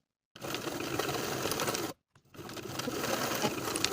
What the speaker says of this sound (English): Sew both side seams with a 5/8 inch seam allowance and press the seams open.